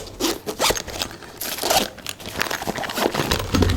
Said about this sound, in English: So they've actually got a zipper installed.